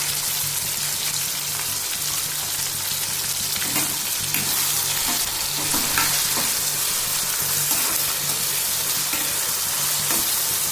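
A potato and bean mixture fries in a pan with a steady, loud sizzle while a utensil stirs it in repeated scraping strokes, close up with no talking.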